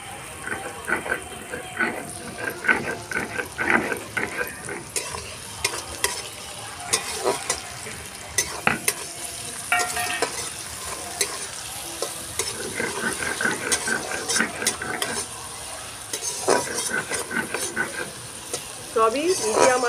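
Onions fry in a pan over medium heat with turmeric and salt, stirred again and again, giving an uneven scraping and sizzling up close that pauses and resumes over about twenty seconds, with some talk in the background.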